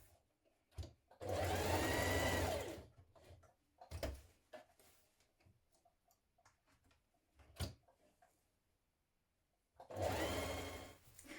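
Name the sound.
sewing machine stitching trouser waistband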